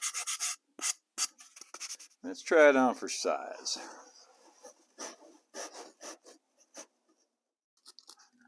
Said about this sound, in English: Now I just need to do a little sanding to get a nice snug fit